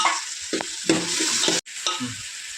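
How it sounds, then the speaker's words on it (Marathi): Chopped tomatoes and bell pepper fry in a hot pan with onions and cumin for pav bhaji, a steady loud sizzle broken by scraping stirs, with one brief gap near the end. "त्याच्यात आता टोमॅटो, शिमला मिरची टाकून घेऊया, चांगली भाजून घेऊया."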